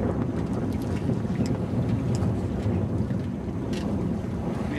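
A sailboat under mainsail alone, moving in light wind with the tiller lashed, gives off a steady wash of water and wind noise along the hull, continuous and fairly close, with no voices.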